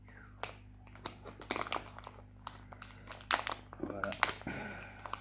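Crinkly plastic packaging is pulled and torn open around a fishing lure, with sharp bursts of crackling in irregular handling noise, close and quiet, under someone speaking French.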